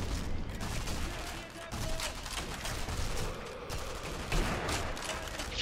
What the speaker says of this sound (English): I shot off about 2 magazines there